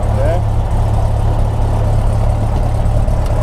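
A light aircraft propeller engine settles into a steady, loud idle near 1,000 RPM, a continuous low drone with a constant hum throughout.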